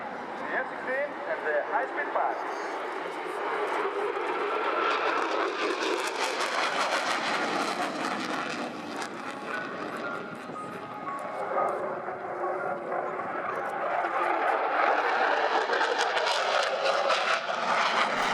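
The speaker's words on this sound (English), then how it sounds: "Unlike most F-16 demo teams, the Zeus jet is a Block 52 variant with external fuel tanks" A Greek F-16 Block 52 'Zeus' demo jet carrying external fuel tanks flies its display at the Royal International Air Tattoo 2015, a sustained jet roar that swells and fades as it passes.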